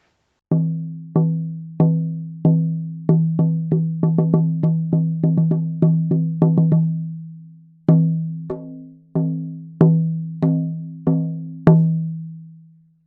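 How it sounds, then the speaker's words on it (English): A deep handmade bison hide drum is struck in a steady beat, speeds into a quicker roll, pauses, then resumes with slower resonant booms. "So together they sound like this."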